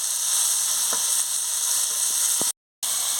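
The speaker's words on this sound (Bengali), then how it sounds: "দেখুন বন্ধুরা মাছগুলো কি সুন্দর ভাজা হয়ে গেছে।" Pieces of mrigal fish fry in a pan, a constant soft sizzling hiss with a few small pops and clicks, briefly cut off near the end.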